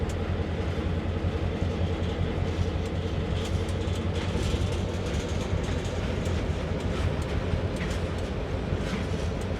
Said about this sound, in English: Bruins, this is an Empire service train.